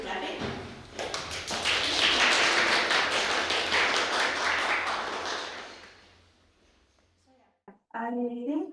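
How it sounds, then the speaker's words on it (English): Audience at an Estonian astrobiology day event applauds to thank the supporters, a dense, loud burst of many hands clapping that swells, holds for several seconds and fades out, followed by a voice beginning to speak. "I would really like if we all thank them with clapping"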